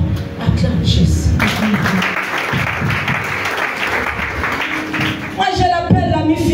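A church congregation breaks into steady, sustained applause acclaiming Jesus, with a preacher's voice heard before and after the clapping.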